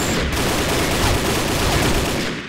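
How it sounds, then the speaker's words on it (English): Dense, continuous gunfire in a video game firefight, loud and close, a sustained roar of shots with no pauses over a couple of seconds. "I fucking shot you non-stop, but okay."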